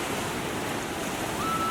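A swollen village river after heavy rain rushes past in a steady, loud broadband roar, continuous throughout, with no voices.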